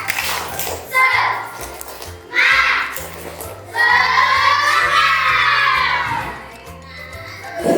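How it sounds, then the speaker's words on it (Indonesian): Classroom of children chanting and clapping together in a rhythmic spirit cheer, loud bursts of young voices with patterned claps, led by a teacher. "Coba tepuk semangat."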